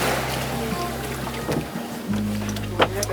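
The rear engine of a small fishing boat runs at sea, a steady low drone heard up close with a brief dip in the middle, while water splashes against the hull.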